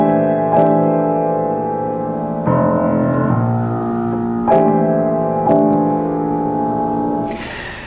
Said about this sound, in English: You can't really get the true flavor of these chords on the piano